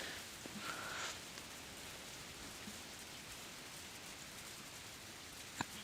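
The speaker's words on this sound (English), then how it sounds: "The sound of rain gradually fades out along with the lights." Rain falls at night at a rural bus stop, a soft, steady patter that stays faint throughout, with a couple of brief sharp knocks.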